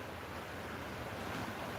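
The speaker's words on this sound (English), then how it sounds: "hear the sounds of the water coming through the camera" Ocean waves wash steadily at São Martinho do Porto beach, a broad, even surf roar with some wind rumble, faint and continuous with no voices.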